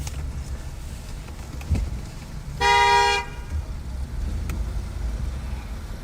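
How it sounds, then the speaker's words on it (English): Car horn honking in a city street during an immigration enforcement raid in Minneapolis–St. Paul, a single sustained blast of about half a second over steady wind and traffic rumble. "I heard the honking."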